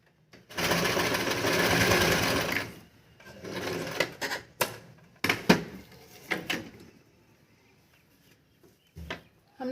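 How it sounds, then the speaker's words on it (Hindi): Sewing machine running a straight seam on salwar fabric, a steady whirring burst of stitching followed by a few short start-stop runs and mechanical clicks, close and fairly loud. "अब हम इस पे सीधे से एक सिलाई लगाएंगे"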